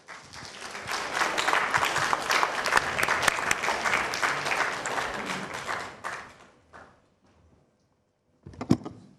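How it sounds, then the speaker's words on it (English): A conference audience at the Ghana Institute of Engineering applauds its president with sustained, dense clapping for about six seconds. The clapping then tapers away to near silence, and a brief burst of noise follows near the end. "Please, let's give our distinguished president another round of applause."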